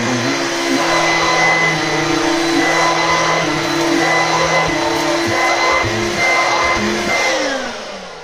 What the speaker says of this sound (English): Let me see that little vacuum here.